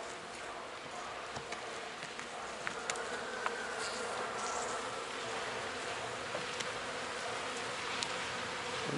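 Honey bees at a hive in a small weak nucleus colony with a Carpathian queen, checked at an apiary in the Carpathian foothills after a February cleansing flight; a steady, soft buzzing hum fills the clip with faint scattered ticks and no talk.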